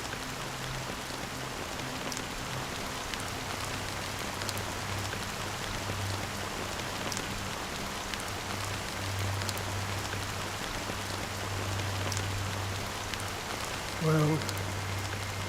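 Steady rain falling in the Honkai: Star Rail video game, a constant soft hiss of drops on surfaces with a low hum beneath, and a brief spoken word near the end.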